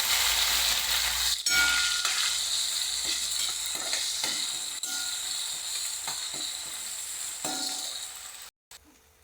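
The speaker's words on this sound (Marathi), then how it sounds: "एक टमॅटो आपण बारीक कापून घेतलं होतं ते टाकणार आहोत त्याला छानपैकी मस्त आता परतून घ्यायचं आहे तेलामध्ये" Finely chopped tomato sautéing in oil in a pan makes a bright, steady sizzle with repeated scraping strokes from stirring. The sizzle slowly fades toward the end, breaks off briefly, then returns faintly.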